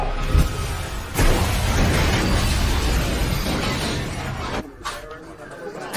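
A loud explosion in a hospital in a film, hitting with a sharp burst and a deep boom, followed by a long crashing, rumbling roar of debris that slowly fades before a second jolt near the end.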